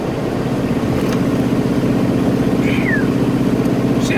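A GMT400 pickup truck with a newly replaced rear differential cruises at 65 mph, giving a steady, loud blend of engine drone and road rumble with no letup.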